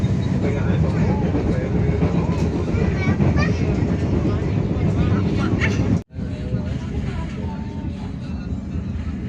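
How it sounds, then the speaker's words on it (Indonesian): An economy passenger train, the KA Bengawan, pulls out of Kutoarjo station in Purworejo, heard from inside as a loud, steady rumble of wheels and car noise with a brief dropout, under faint voices. "KA Bengawan kembali diberangkatkan dari stasiun Kutoarjo, Kabupaten Purworejo jam 13:23 menit"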